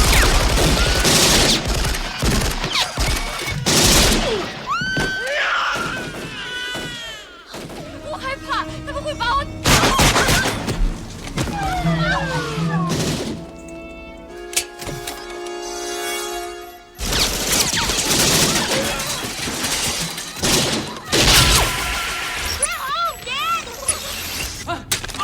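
Gunfire from the RoboCop film: repeated bursts of shots and heavy booming volleys tear through a loud action scene, broken by brief quieter stretches with mechanical clanks, and voices speak between the blasts.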